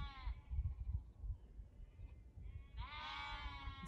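Sheep bleat at sunset, two wavering calls, one at the start and a longer one near the end, with low rumbling background noise between them.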